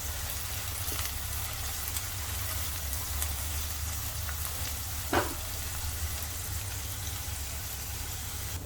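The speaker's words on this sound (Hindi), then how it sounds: "अब इनको भी भून लेते हैं 1 मिनट के लिए प्याज के साथ।" Steady, soft sizzling of green chillies frying with onions in a pan, continuous and close, with a brief scrape of stirring partway through.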